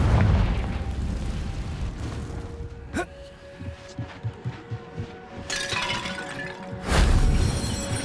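Confringo blasting spell explosions in Hogwarts Legacy: loud bursts open and close the passage, with a sharp crack in between and small rhythmic thumps against quieter game ambience.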